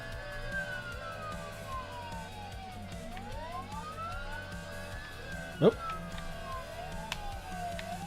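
Police car sirens from a game jam video game, several wailing tones sweeping up and down throughout at moderate level, with a person talking briefly over them.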